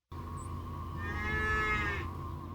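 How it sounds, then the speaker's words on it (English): A dairy cow at a California dairy farm gives one loud, sustained moo close by, lasting about two seconds, with steady barn noise beneath it and no voices. "The cows stand patiently in line, ready for the morning milking."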